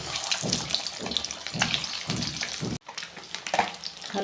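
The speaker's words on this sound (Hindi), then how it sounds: "तेल गरम हो गया गैस। अब इसमें हम एक एक अंडा डालते हैं।" Eggs cracked one at a time into hot oil in a kadai give a watery crackle with repeated soft spatters and pops, a short break, then more sputtering at moderate volume.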